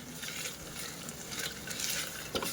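Farali pulav with rock salt being stirred in a pan, giving a soft steady scrape and gentle sizzle that runs for a couple of seconds with a slightly louder stroke near the end.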